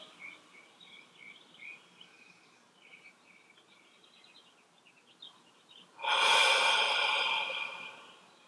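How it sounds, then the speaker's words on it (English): A single deep, breathy inhale rises sharply near the end of a guided breathing meditation, loud and close after a long quiet stretch with faint bird or insect chirps in the background. "Inhale."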